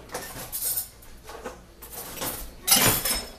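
A regular teaspoon scoops vanilla yogurt from its tub, making a few soft clinks and scrapes against the container in uneven bursts, close up and fairly quiet, with a louder clatter at the end.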